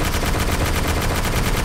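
Rapid automatic gunfire rattles in a video game firefight, a dense, loud, evenly spaced burst of shots lasting the whole moment with no pause and no voices.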